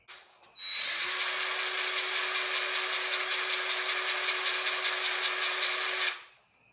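A Hercules cordless grease gun runs steadily for about five seconds, a loud, close, high-pitched motor whine that starts abruptly after a faint click and cuts off cleanly.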